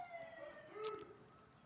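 Faint, distant emergency vehicle sirens wailing during a Sunday afternoon women's football match, a thin rising tone with a brief sharp sound from nearby partway through.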